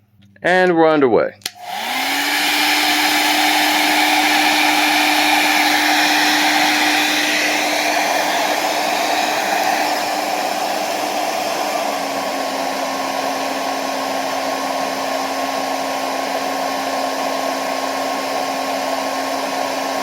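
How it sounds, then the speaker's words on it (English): A heat gun and a blow dryer run together off an EcoFlow Delta 2 portable power station, giving a loud, steady electric whir and rushing airflow after a brief clunk at the start, with a slight drop in pitch partway through. "once I turned on the heat gun, it throttled the blow dryer to keep things around 1800 watts or so"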